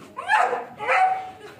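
A 2.5-year-old male black German Shepherd barks twice in quick succession, close and fairly loud, with a softer whine-like trailing sound at the end.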